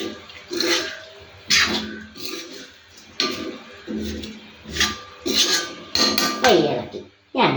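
Fish pickle made with small sardines is gently stirred in a pot, giving uneven scraping clinks and soft clatters close by, with a voice heard at moments.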